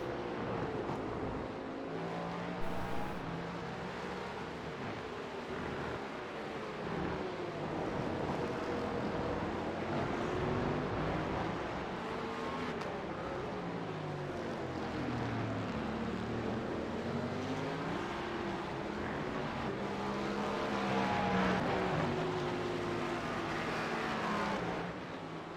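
Porsche Cup race cars lapping the Jerez circuit, several engines rising and falling in pitch as they pass and shift gears, a continuous layered roar at moderate distance with no talk.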